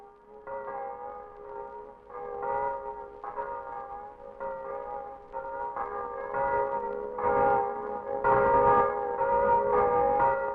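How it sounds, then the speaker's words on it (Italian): Festive church bells ring out across a valley for Ascension from a parish church tower, a steady overlapping peal of several bells that swells louder toward the end, with no voices. "Campane a festa per l'ascensione nella valle della Bu."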